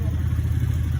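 A two-wheeler's engine running close by, a steady low, throbbing putter with a rapid mechanical pulse and no breaks.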